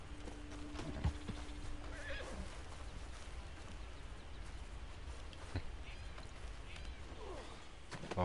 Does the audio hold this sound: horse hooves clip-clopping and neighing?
yes